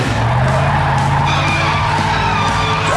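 An animated rescue vehicle speeds off with tires skidding and screeching over a steady, loud engine roar for the whole stretch, with no voices.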